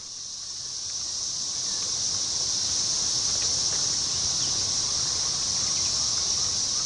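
A chorus of 13-year periodical cicadas in a forest makes a continuous high, shrill drone that swells at the start and then holds steady and loud.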